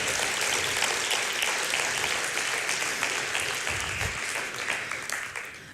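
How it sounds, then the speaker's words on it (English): Audience applause at a talk, steady and dense from the start, holding loud for several seconds before tapering slightly toward the end. "Give him an applause because he's very brave."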